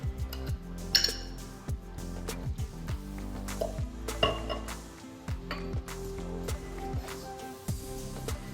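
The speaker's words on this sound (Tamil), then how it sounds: "இனிமேல் மாவை தண்ணி விட்டு கரைக்கணும்" Bajji batter is stirred with water in a bowl, and a spoon or utensil clinks repeatedly against the sides in an uneven rhythm over a low background hum, close and fairly quiet.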